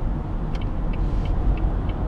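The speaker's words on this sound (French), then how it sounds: "quand je pose le pied sur l'accélérateur" A 2006 Renault Scenic 1.5 dCi 105 diesel pulls from about 1000 rpm in sixth gear, a steady low engine drone with road and tyre rumble, heard from inside the car with no speech.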